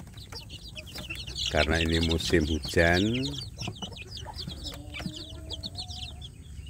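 Free-range village chicks chirp in a warmed pen, high thin peeps scattered throughout at close range while a person talks over them.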